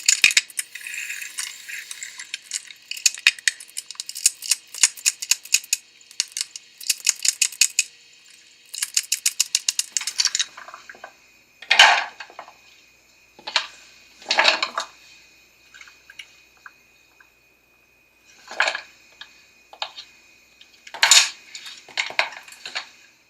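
A knife chops carrots on a cutting board, giving a quick run of close, crisp rhythmic taps and then sparser bursts of separate cuts with quiet gaps, and no one speaks.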